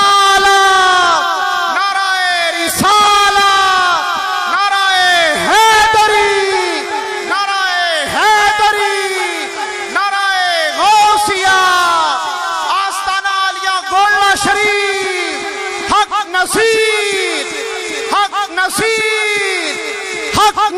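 Large crowd shouting religious slogans in unison, Nara-e-Takbeer and Nara-e-Risalat, at a religious gathering; loud rhythmic call-and-response bursts of massed voices repeating every couple of seconds throughout.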